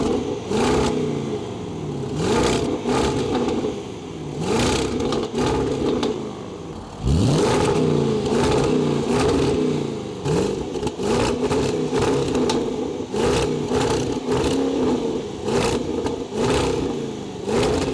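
A Range Rover Sport SVR engine revs repeatedly with its exhaust valves open, loud rising blips and a throaty roar, one long sustained rev midway, crackles and pops between pulls, heard up close with no talking.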